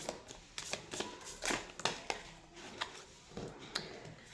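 Tarot cards are shuffled and drawn close by in a quiet series of quick riffling flicks and soft slaps. The sounds are light and uneven and come alone, with no voice.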